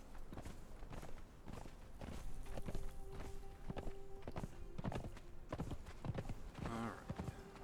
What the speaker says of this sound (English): Let the horse regain some stamina here.